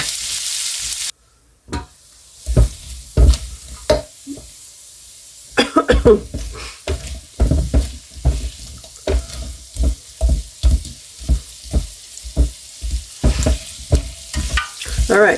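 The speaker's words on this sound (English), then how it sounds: "I'm going to go ahead and cover this so it kind of steams the potatoes so they cook a little faster" Potatoes frying in a pan, with repeated spatula scrapes and stirs in an uneven rhythm over a crackling sizzle, close and fairly loud, after an early clatter.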